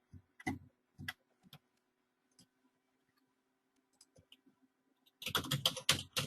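Computer keyboard typing in bursts of clacking keystrokes, a few dense flurries separated by quiet gaps with scattered single taps, ending in a loud rapid run; close and alone with no talking.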